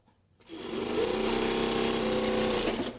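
A sewing machine stitches jacket lining panels, a side piece layered beneath another, running in one steady continuous whir for a few seconds after a brief quiet start, close and fairly loud.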